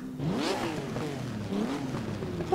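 An Alfa Romeo 158 race car engine in the Assetto Corsa racing game revs steadily and fairly loudly on its own for a few seconds, with rising and falling pitch as the throttle changes.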